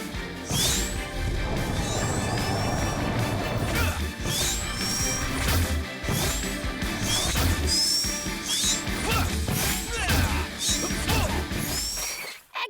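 Cartoon sound effects of asteroid pieces crashing down, a dense, loud, continuous barrage of smashes, thuds and whooshing swoops with rising and falling whistles, layered over busy background music.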